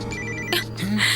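A phone ringtone with a steady electronic tone, ringing continuously and fairly loud for about a second, with a brief voice-like sweep partway through.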